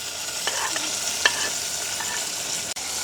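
Onion, green chili and curry leaves fry with mustard and fennel seeds in a village kitchen, a soft steady sizzle with a few light stirring clicks, close and without talk.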